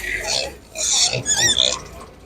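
Piglets at an animal market grunting and squealing close by, a run of short snorts and higher squeals rising and falling over about two seconds.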